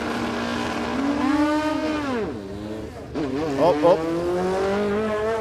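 Lay-down drag bike at a drag strip, its engine note rising and dipping as the rider rolls off and back on the throttle, a strong sustained whine heard from a distance, with a brief voice exclaiming.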